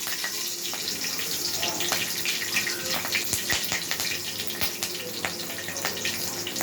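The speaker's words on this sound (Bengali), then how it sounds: "আমি এখানে কালো জিরে, এবার শুকনো লঙ্কা, কাঁচা লঙ্কা ফোড়ন দিয়ে দিলাম।" Nigella seeds with dried and green chillies temper in hot oil, giving a loud, continuous, crackling sizzle with scattered sharp pops throughout, heard close and with no talking.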